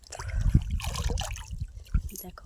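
Fish being washed by hand under running water, with a steady trickle and irregular splashy bursts over a low rumble, fairly close and moderately loud.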